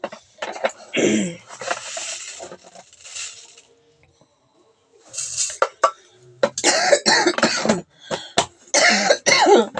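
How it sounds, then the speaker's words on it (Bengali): Repeated harsh coughing fits, a cluster early on, a quiet pause, then a longer run of rapid coughs close to the listener. "খুব কাশি হয়ে গেছে বন্ধুরা।"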